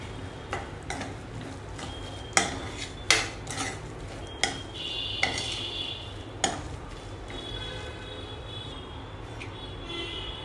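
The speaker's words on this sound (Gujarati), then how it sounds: "અને વન ફોર ટીસ્પૂન આપણે ચીલી ફ્લેક્સ ઉમેરી લેવાના છે બધું જ સરસ રીતે મિક્સ કરી લેવાનું છે" A chili corn toast mixture with chili flakes and oregano is mixed with a spoon in a bowl, making a series of sharp clinks and scrapes over soft background noise, then quieter stirring.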